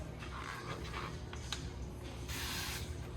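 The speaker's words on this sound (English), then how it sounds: "Spray it." A few short hissing sprays of a spray bottle onto a window during window tinting, close up, with quiet rubbing and handling noises between bursts.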